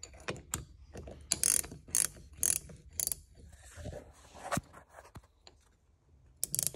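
Ratchet wrench clicking while working on the hydraulic remote of an IH 966 tractor, bursts of rapid metallic ratcheting with pauses between strokes, close and fairly loud.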